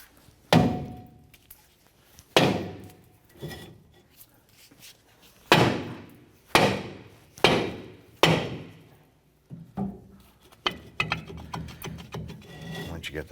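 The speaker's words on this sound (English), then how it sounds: "we're going to go ahead and use our dead blow hammer. Going to give this a few whacks" A dead blow hammer delivers a series of heavy, dull whacks to a stuck rear wheel part on a 1993-1997 Ford Ranger, about six spaced strikes followed by quicker, lighter taps and clatter.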